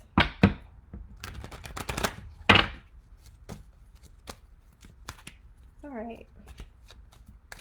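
A deck of tarot cards is shuffled close by in several quick riffling bursts and sharp taps, with a short spoken remark and a brief hum between bursts.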